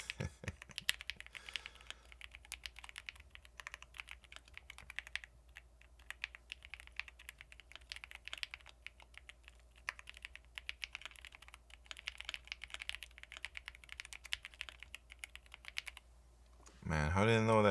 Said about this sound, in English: Man, these words are hard to type.